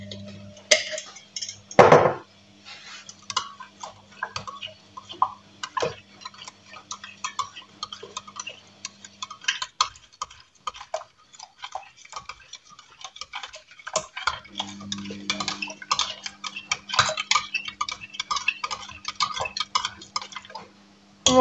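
A metal teaspoon stirs honey into a yeast mixture in a bowl, making light, rapid, rhythmic clinks and ticks close up for about twenty seconds, over a low background hum that drops away midway and returns.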